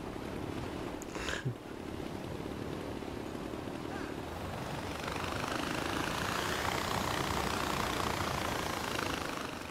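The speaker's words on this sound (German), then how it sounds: "Und ihr guckt hier, wo hier ein Helikopter ist." A helicopter from the video game Far Cry 4 drones as a steady whirring rotor and engine hum, rising slightly in loudness midway, with a voice speaking faintly early on.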